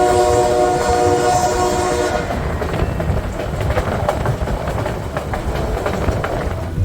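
A White Pass Railway train blows its horn in a loud, chord-like blast for about two seconds, then the rumble and clatter of the moving rail cars continue close by.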